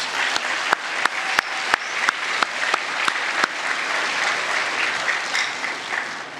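Audience applause at a school end-of-year awards ceremony, with steady clapping across the room and several sharp nearby claps standing out early on.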